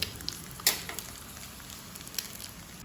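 Soft, steady sizzle of food frying in a pan, with an egg among the ingredients, a continuous crackling hiss with a few sharper pops, quiet and close with no talking.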